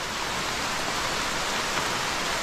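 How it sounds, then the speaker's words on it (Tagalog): Heavy rain pours steadily in a dense, even hiss that fills the whole stretch without pause, close and loud. "lakas ng ulan mga kabayan oh"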